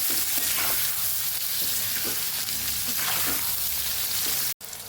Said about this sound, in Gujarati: પહેલાં ભીંડા આપણે પકાવી દઈશું